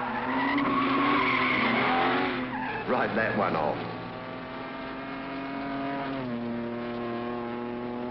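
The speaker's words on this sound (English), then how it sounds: "Stock cars hotted up and raced round a quarter-mile track." Hotted-up stock cars race round a quarter-mile track in 1951 America, tyres squealing in long skids over droning engines, while someone speaks briefly over the noise.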